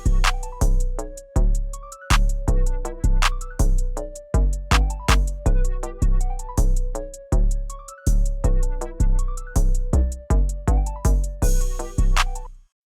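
A trap beat plays back with punchy drums: booming 808 kicks, crisp snares and rapid ticking hi-hats in a steady looping pattern alongside a repeating melodic tone, loud and continuous with no talking.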